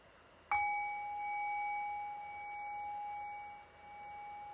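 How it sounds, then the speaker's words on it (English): A meditation bell is struck once, a clear bright ding that rings out and slowly fades over several seconds in a quiet room. "I'll cue that just by ringing the bell one time"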